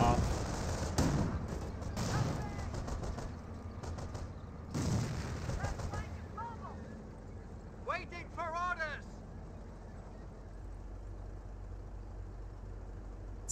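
Wurfrahmen rocket artillery fires in the Company of Heroes strategy game as a quick burst of launches and booms, followed by scattered battle noise and whistling projectiles while a commentator talks over it.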